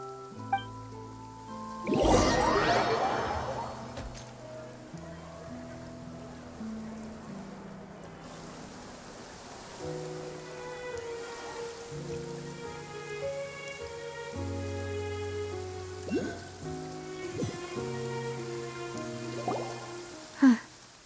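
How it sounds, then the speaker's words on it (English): Steady rain pattering in the video game Genshin Impact, a soft continuous wash under layered melodic background music, with a few brief louder splashes. "It's been raining non-stop for a few days now."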